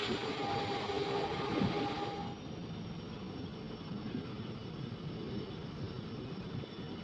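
Steady low rumble and rattle of a train rolling along, louder at first then settling into a constant hum as it slows into Mandapam railway station.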